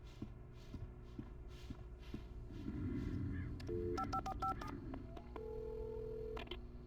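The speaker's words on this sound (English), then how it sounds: "I guess we'll use the phone now." In the video game Alan Wake, a series of short electronic keypad dialing tones, several rapid beeps in a row, followed by a longer steady tone over a low background hum and rumble.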